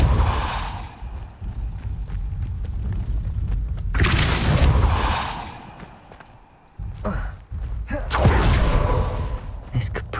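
Spell-casting effects from the video game Hogwarts Legacy, heavy whooshing blasts and booming impacts around four and eight seconds, with rumbling swells between them and a voice speaking over parts.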